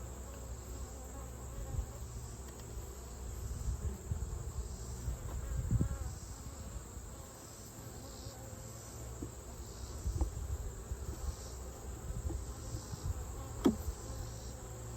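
Honey bees around a hive bringing in bright yellow pollen, a soft steady buzzing hum with occasional louder close passes of individual bees, fairly faint overall and free of speech.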